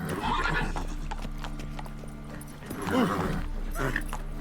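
The horse Roach galloping in The Witcher 3: rapid, rhythmic hoofbeats in a steady clip-clop with a whinny, close and loud over game ambience and some voice.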